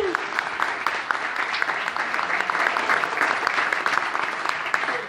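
A church audience gives the choir warm, steady applause, dense clapping sustained at moderate volume, with a voice speaking faintly beneath it.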